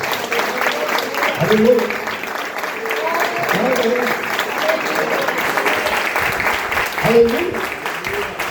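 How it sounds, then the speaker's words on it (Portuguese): A church congregation at a Brazilian family worship service claps together, a broad wash of applause running throughout with voices shouting praise over it, swelling at moments. "Dê uma salva de palmas para o Senhor."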